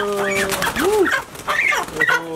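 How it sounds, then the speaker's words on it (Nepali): A home-raised domestic rooster squawks and clucks in a few short, rising-and-falling calls as it is being caught. The calls are close and fairly loud over a low background. "आमाले पालेको भाले काट्दै हुनुहुन्छ"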